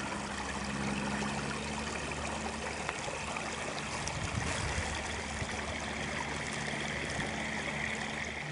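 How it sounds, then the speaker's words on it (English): A small, cold forest stream runs steadily, a close and continuous babble and trickle of water with no voices. "So we are down at the magic stream."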